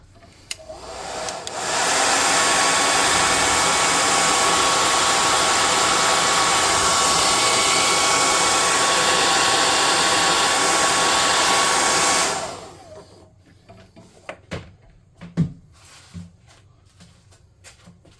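A hair dryer runs steadily for about ten seconds, drying painted pieces, a loud continuous blowing roar that switches on and cuts off, followed by quiet handling clatter.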